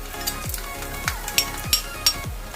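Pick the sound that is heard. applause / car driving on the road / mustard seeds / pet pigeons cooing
mustard seeds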